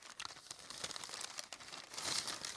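Long paper receipts are crinkled and handled up close, giving irregular crackling rustles with a louder, denser burst of crumpling toward the end; no speech.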